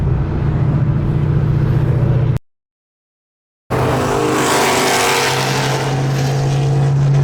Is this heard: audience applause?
no